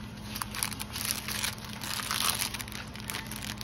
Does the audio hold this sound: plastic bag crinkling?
yes